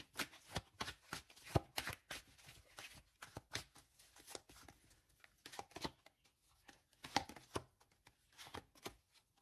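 Tarot cards being shuffled for a reading, a run of quick crisp riffling flutters and soft slaps in irregular bursts, close up and fairly quiet, with no speech.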